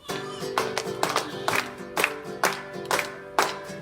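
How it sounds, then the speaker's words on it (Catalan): Rhythmic hand clapping from an audience keeping time with music at a children's storytelling show, roughly two claps per second over a steady musical backing. "Picant de mans i remenant el cul al ritme de la música."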